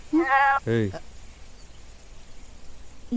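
Young goats bleat twice in quick succession close by, two short wavering cries in a quiet village setting, followed by near silence and the start of another call at the end.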